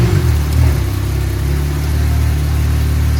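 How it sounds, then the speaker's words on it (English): A car engine turns over and catches, then settles into a loud, close, steady running hum with a slight early revving swell. "10 to 1, car starts."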